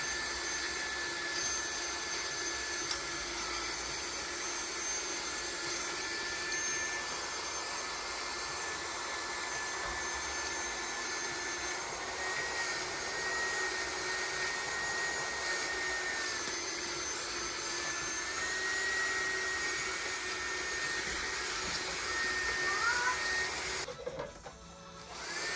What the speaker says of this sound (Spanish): Aspiramos todo ese polvo que liberamos